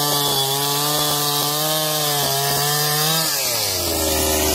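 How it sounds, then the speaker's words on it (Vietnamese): Husqvarna 365 chainsaw cutting through a log, a loud close engine roar with a steady pitch that drops sharply near the end as the cut finishes and the saw settles toward idle, with no talking. "Điện Máy Lam Việt sẽ giới thiệu với anh em cái mẫu máy cưa hút mã 365"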